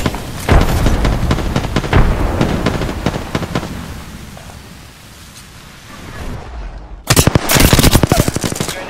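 Gunfire and a frag grenade in the video game Apex Legends: rapid loud volleys of automatic fire with deep booms, a quieter lull in the middle, then a sharp renewed burst of close shots.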